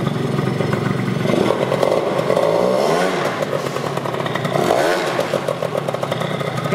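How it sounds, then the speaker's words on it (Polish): Italjet Dragster 180 scooter with a sports exhaust revving loudly up close, a raspy buzzing two-stroke-style drone rising and falling in two throttle blips. "Gada jak ze sportowym wydechem."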